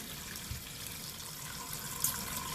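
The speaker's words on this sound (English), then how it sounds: "Run some water up in there." Tap water runs into a cooking pot in a home kitchen, a soft steady splashing stream, fairly quiet and continuous, with no speech.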